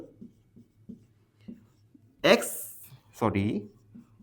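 A pen scratches out a math solution for a polynomial exercise in soft, evenly spaced strokes on paper, and a voice speaks briefly over the writing.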